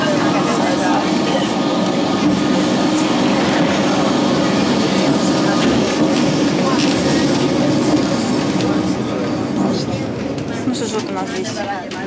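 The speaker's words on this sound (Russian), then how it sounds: "Ну, опять нам едет навстречу трамвайчик" The old Lisbon tram 28 rolls along a city street with a steady rumbling, clattering and creaking of wheels on rails, heard from close by under ongoing conversation.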